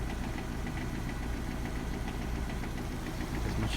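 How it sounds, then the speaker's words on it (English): A Subaru EJ257 engine on cold startup clacks with a fast steady knock from a defective timing belt tensioner, loud and continuous over the idle. "that's the clacking noise"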